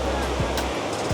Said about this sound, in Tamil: இது இங்கேருந்து போயிட்டு அந்த தண்ணி வந்து கிட்டத்தட்ட ஒரு 200 அடி கீழே வந்து குதிக்குதான் இந்த தண்ணி.